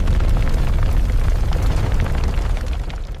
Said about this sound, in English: where a single spark is all it takes to cause an explosion